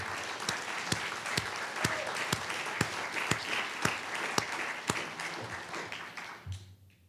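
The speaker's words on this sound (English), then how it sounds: "I was going to ask for a round of applause, but you did it automatically" Audience applause breaks out at the 10th anniversary Trans-Caspian Forum, a steady wash of clapping with sharp individual claps standing out, sustained for several seconds before tapering off and fading at the end.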